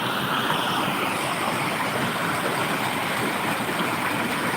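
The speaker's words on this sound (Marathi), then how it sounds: "पाणी पडतंय" Steady, loud rush of water falling after a night of very heavy rain, a dense broadband roar like a torrent or runoff cascade, continuous and close with no voices over it.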